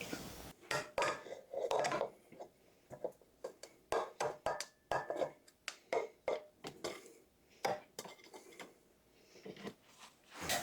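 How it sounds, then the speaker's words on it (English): A little knife breaking up two pounds of butter in a bowl, giving a steady run of close clinks and taps against the dish in an uneven rhythm, with no talk. "I'm just breaking it up with this little knife"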